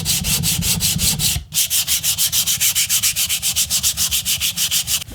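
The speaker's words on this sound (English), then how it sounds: "I'm gonna kind of true everything up with just a hand sanding block here" A hand sanding block rubs back and forth across a prop shotgun part for an Overwatch Reaper replica, making loud, close, rhythmic scratchy strokes with one short pause before the fast, even strokes continue.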